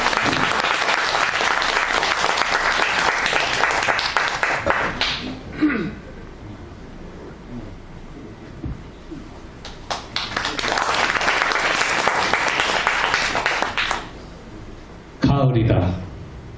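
Audience applause at a Korean poetry recital, a dense burst of clapping that fades, a quieter stretch with scattered sounds, then a second strong round of clapping before stopping abruptly.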